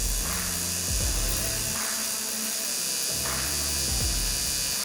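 Steady buzzing crackle of aluminum being welded with an Eastwood welder, a continuous close hum with low tonal bands that shift and break at a few points, running alone without talk.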